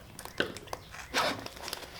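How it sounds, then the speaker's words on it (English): Cheap scissors snip through salvaged gasket material in a garage, giving a few short, crisp crunching and crinkling cuts at close range, quiet and alone. "These are crappy scissors."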